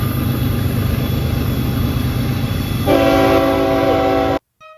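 A model train rumbles steadily along a layout, then a horn sounds with layered tones for about a second and a half before cutting off abruptly.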